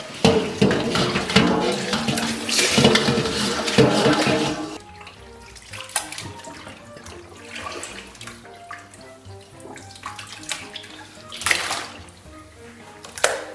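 Clean water rinses pork intestines in a basin: a loud, close rush of pouring water for several seconds, then quieter sloshing and intermittent splashes as the contents are handled.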